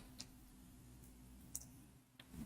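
Computer mouse clicks during 3ds Max work, a few sharp, faint, isolated ticks spread across a quiet background hum.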